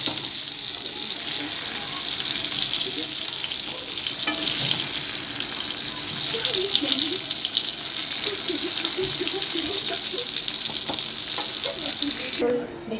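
Pointed gourds (potol) fry in hot oil with a continuous loud, hissing sizzle that holds steady from start to finish, close and without talk.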